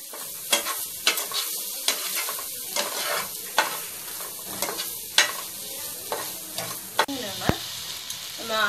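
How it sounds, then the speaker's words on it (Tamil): Chili powder, turmeric and salt sauté in a pan for Chettinad chicken gravy: a soft continuous sizzle broken by repeated sharp scrapes and taps of a spoon stirring at an uneven rhythm. "போட்டு கொஞ்சம் வதங்க விடுங்க."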